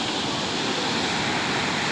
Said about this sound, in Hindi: भद्रकाली मंदिर में जो नदी है उसमें पुल तक पानी आ चुका है।